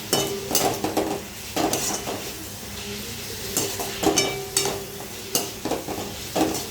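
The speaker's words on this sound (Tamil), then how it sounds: "இந்த தக்காளி சேர்த்து கொஞ்சம் நல்லா வதங்கட்டும்" Tomatoes stirred and sautéed in a pan for vegetable kurma: sizzling frying with repeated scraping stirs and light clinks of a utensil against the pan, close and steady with no talk.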